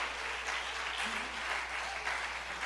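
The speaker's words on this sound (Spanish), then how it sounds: "yo pensé que usted iba a darle un aplauso al Rey de Reyes" A church congregation applauds, steady continuous clapping filling the room at moderate volume with no speech over it.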